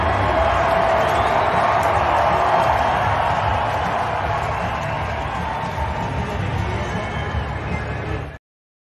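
Hockey arena crowd at a Colorado Avalanche game roaring and chanting for Nikola Jokic, a dense sustained wall of cheering voices close and loud throughout, fading slightly toward the end before cutting off.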